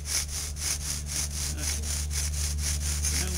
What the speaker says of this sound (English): So now we just keep sawing.